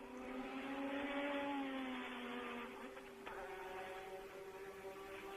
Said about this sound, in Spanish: El sonido característico de los motores turbo